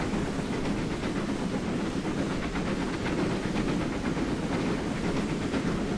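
A steam locomotive running on the Riviera Line in the Train Simulator 2021 game, set in the fifties, gives a loud, continuous chuffing roar with a rhythmic clatter of wheels on rail and steady hiss throughout.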